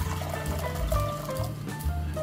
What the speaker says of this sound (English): And then add some water, enough to cover those beans.